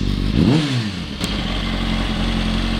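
A 2005 Kawasaki Ninja ZX6R (636) motorcycle engine idles loudly and steadily, with a brief rev early on and a slightly uneven, missing beat in the idle.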